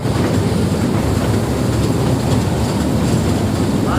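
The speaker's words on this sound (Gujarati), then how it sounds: "ટ્રેન આપણી ચાલી રહી છે" The Matheran toy train rolls along its rails with a dense, continuous rumble and rhythmic clatter of wheels, loud and close from inside a carriage.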